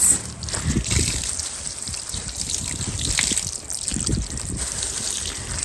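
Water trickles and splashes in uneven bursts from squeezed tie-dyed fabric, dribbling steadily as it is wrung out, with a continuous wet patter and no speech.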